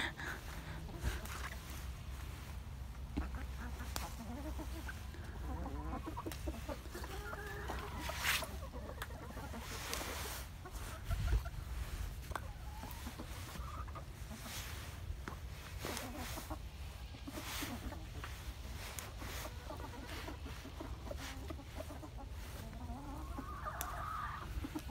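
Backyard chickens, a small flock of hens, cluck on and off in short bursts through the whole stretch in a garden setting, near and moderately loud over a faint steady background.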